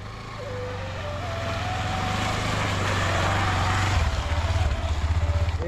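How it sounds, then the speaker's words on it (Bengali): A motorbike crossing a cold hill-country river, its engine droning steadily and growing louder as it approaches, with a pulsing throb near the end. "এই রিভার ক্রসিংয়ের মধ্যে দেখুন বাইক আনা হবে।"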